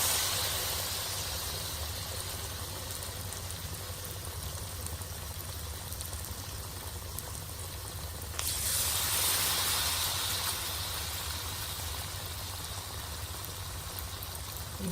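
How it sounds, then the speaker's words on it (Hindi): Potato pinwheels frying in hot oil give a steady, soft hiss and crackle that swells briefly louder partway through, as if more pieces go in, then settles back to a constant sizzle. "ये ऑयल गर्म हो गया है। अब हम ये व्हील इसके अंदर डालेंगे।"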